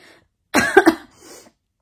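A person with a cold and a cough lasting two to three weeks gives a short, harsh burst of coughing, close and clear in otherwise quiet surroundings.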